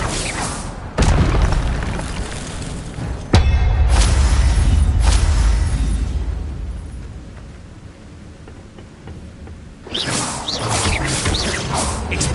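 Spell effects from the video game Hogwarts Legacy, loud booming bursts with whooshing swells, a sharp impact near the start and another heavy hit partway through, then a rumbling tail fading before a renewed surge.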